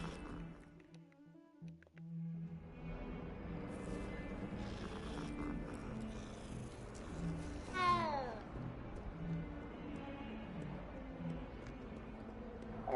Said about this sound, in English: Little kitty cats.